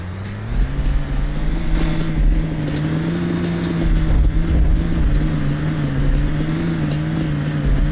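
A car drives across a rocky desert surface in the Roblox game A Desrt, its engine holding a steady low drone with a rough, rumbling texture throughout, loud and close with no talking.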